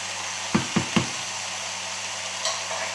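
A spoon knocks three times in quick succession against a pan of onions, garlic and mushrooms cooking for a turkey blanquette, with a faint sizzle underneath and a softer scrape afterward.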